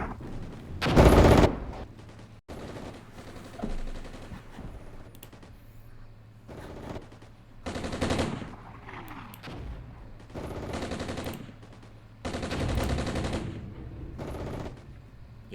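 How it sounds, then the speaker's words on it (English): Artillery and gunfire in the Cold War strategy game Armored Brigade: bursts of machine-gun fire and heavy blasts in separate loud clusters, with quieter rumbling gaps between volleys. "enemies throwing a lot of artillery at us, too"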